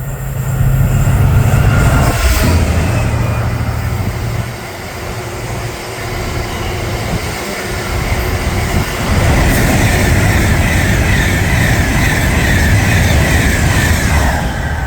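A pair of top-and-tail Class 66 freight locomotives passing at Berkhamsted, a loud rolling rumble with diesel throb and wheel clatter that dips briefly midway, then swells again.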